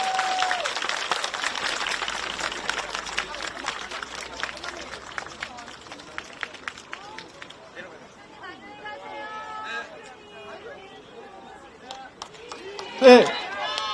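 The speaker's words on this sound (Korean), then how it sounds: "큰 박수 부탁드리겠습니다." Crowd applause at an outdoor political campaign rally in Hanam starts dense and gradually thins to scattered claps, followed by crowd chatter and a sudden loud bump near the end.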